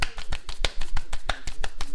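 Chapati dough is slapped between the hands, producing a quick run of sharp, close claps in an uneven rhythm, roughly a dozen crisp smacks in two seconds.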